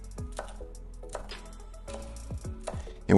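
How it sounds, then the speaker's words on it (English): Onions being chopped with a knife on a cutting board, a series of sharp, close, irregularly spaced knock-like strikes with quiet gaps between them and a louder clatter at the very end. "Chop our onions."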